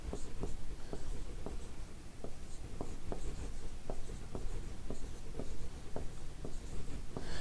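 Marker or chalk writing on a board during a math lesson on writing numbers, with short, distinct scratchy strokes at an irregular rhythm, close and clear, over steady background noise.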